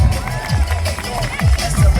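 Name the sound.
crowd cheering for drift rider Lee Bowers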